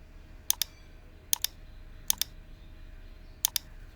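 Computer mouse clicking in quick double-click pairs, four pairs spaced unevenly across a few seconds, crisp and close over a faint quiet room hum.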